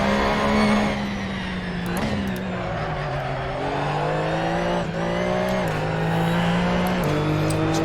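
Porsche 911 GT3 Cup race car from 2017 in the Assetto Corsa racing game at Laguna Seca, its engine droning loud and steady with pitch rising and dropping through gear changes, occasional brief tire noise, no talk over it.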